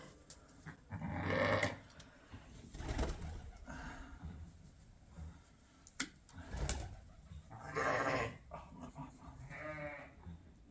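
Triplet lambs on a sheep farm bleating close by, several separate calls across the stretch over a low barn background.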